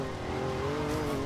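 A Ford Capri engine in the racing game Forza Horizon 2 eases off the throttle, a loud continuous engine drone with steady tonal whine and no pause.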